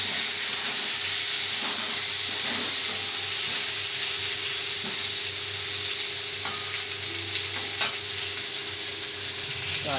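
Whole small new potatoes sizzle in a hot pan for a steady stretch, the close frying hiss broken now and then by faint clicks of stirring or turning, with no voices.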